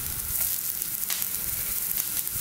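Oil sizzling and crackling steadily in a pan as aubergine halves fry, a bright continuous hiss with small pops, close up and with no talking.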